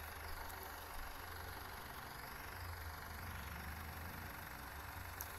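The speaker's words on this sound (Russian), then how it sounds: "Вот трактор со звуками трактора." A tractor engine in a truck simulator video game runs at a steady low rumble, faint and constant with no talking.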